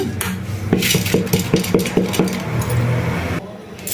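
Clinking and scraping of a spoon against a metal bowl while moving soaked sago into another bowl, a quick run of taps, close and fairly loud, then quieter.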